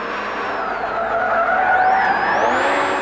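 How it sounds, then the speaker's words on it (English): A touring car spins out on the last lap of a 1990s British Touring Car Championship race, its tires squealing in a loud, sustained skid over the roaring engine, with no voices. "Tim Harvey spins."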